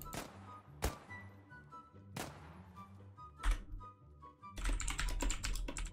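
Keys clatter on a computer keyboard during an online game, a few isolated clacks followed by a quick flurry of typing near the end, close and fairly quiet.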